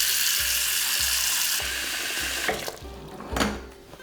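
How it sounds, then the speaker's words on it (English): A kitchen tap runs steadily into a pot being filled with water for pasta, a broad hissing rush that cuts off partway through, followed by a few clunks and knocks of the pot. "We are gonna fill this pot up with some water to get"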